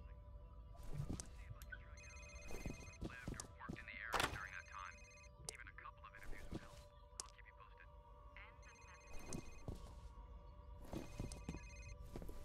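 Telephone ringing inside the video game F.E.A.R., a repeating electronic ring heard in bursts across the scene, with a person talking over it at moments.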